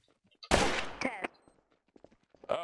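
Burst of gunfire in the video game Trouble in Terrorist Town, a loud crack followed by a couple of quicker shots, then quieter scattered sounds and another shot near the end, with no talking over it.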